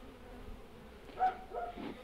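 Honeybees buzz during a hive inspection, a faint droning hum with a brief closer buzz as a bee passes near, then softer buzzing against quiet outdoor background.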